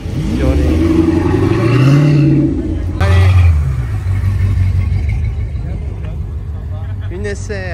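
A heavy American V8 car such as a Dodge or Chevrolet revs loudly and close at a car club gathering, with throaty swells and a sharp rise near the middle, while people talk over it.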